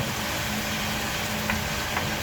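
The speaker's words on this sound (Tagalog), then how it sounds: "Sige lang, prito lang muna natin." Steady sizzling of a pork chop frying in a pan, a dense, even crackle with a low background hum and a couple of faint clicks.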